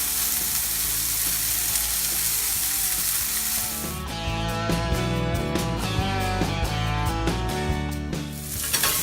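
A deer burger patty sizzles loudly in a hot cast iron skillet, a dense continuous frying crackle that turns busier and more popping once the meat is laid in partway through.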